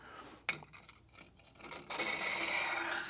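A hand-flattened bevel on a newly forged knife rasps across a King 120 grit whetstone in a few scraping swipes. A sharp clink comes first, then a steady, loud, rough grinding builds toward the end.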